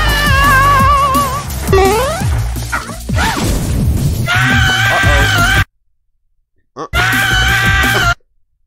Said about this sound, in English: Perfect cut screams.